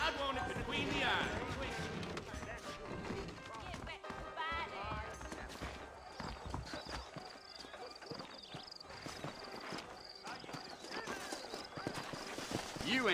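Horses trot and neigh in the Red Dead Redemption video game, with rapid clip-clop hoofbeats and a whinny near the start, mixed with music and game sound.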